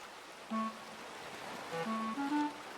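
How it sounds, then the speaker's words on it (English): Steady soft wash of ocean waves in the Skyrim video game, a quiet continuous surf hiss with gentle melodic tones drifting over it. "the salty air and the sound of the waves are good"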